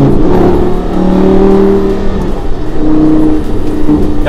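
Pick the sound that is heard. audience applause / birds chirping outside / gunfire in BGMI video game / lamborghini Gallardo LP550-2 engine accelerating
lamborghini Gallardo LP550-2 engine accelerating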